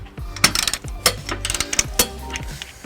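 A socket wrench ratchet with a 19mm socket tightens a trailer hitch stud on a 2004 Chrysler Town and Country, close, with bursts of rapid clicking and metallic clacks in quick, uneven strokes.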